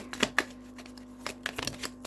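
Playing cards shuffled by hand during a tarot-style reading, giving a few sharp riffling bursts near the start and a quicker flutter of card snaps later, close and alone over a faint steady hum.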